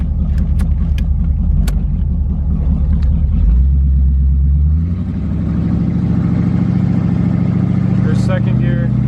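A 1985 C4 Corvette running open headers while driving, its deep, loud engine rumble rising and falling through the gears, heard from inside the car with someone talking over it.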